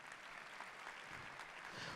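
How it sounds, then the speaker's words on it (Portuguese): A congregation at Holy Mass applauds steadily. The clapping is faint and distant, a soft continuous patter with no voices over it. "Vamos dar uma salva de palmas"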